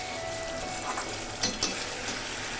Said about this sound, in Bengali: মশলার সাথে একটু কষিয়ে নেব আলুটা